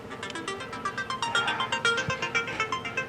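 A phone rings with an incoming call in a workshop where a 1973 VW Thing is being worked on, a steady repeating ring pattern of clear electronic tones, fairly close and with no talk over it.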